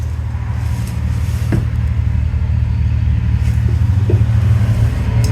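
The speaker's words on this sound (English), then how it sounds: "listening to cars go by." Cars drive past outside a public library, a constant low road rumble with engines swelling and fading as vehicles pass by at moderate distance, with no voices.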